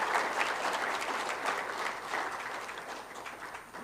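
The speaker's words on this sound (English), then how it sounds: "Please join me with the loudest round of applause" An audience at a battery technology summit claps in a steady, dense round of applause that fades slightly toward the end, with no talking over it.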